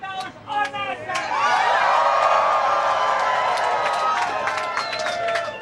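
A room full of people at the SpaceX opening on Nasdaq bursts into sustained cheering, whoops and applause, loud and close, with scattered voices mixed in.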